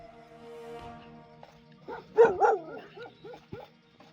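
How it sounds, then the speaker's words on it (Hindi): Dogs barking outdoors at night, a few short barks and yelps in a loose cluster, moderately near, over a faint background hum. "कुत्ते मुसलसल भौंक रहे हैं। मुसलसल भौंक रहे हैं वाकई।"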